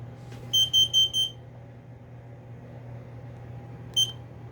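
Smoke alarms at a light show give a quick run of four shrill electronic beeps, then one more beep after a pause, over a low steady hum.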